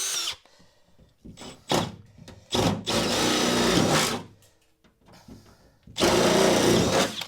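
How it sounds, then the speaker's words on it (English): A drill boring a larger hole through the rear door of a VW Crafter van, with several loud, close bursts of grinding whine separated by pauses and the longest lasting about a second and a half, with no talking. "and then he drilled a larger hole"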